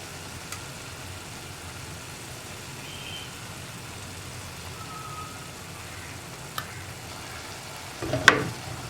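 Sardine thoran cooking in a pan with coconut oil just added, a steady low frying hiss running throughout with a few faint clicks and a louder stir or scrape near the end.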